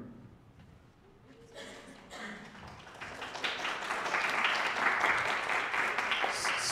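An audience at a lecture on Jewish identities starts clapping after a quiet moment, with scattered claps building into steady, fairly loud applause that holds to the end.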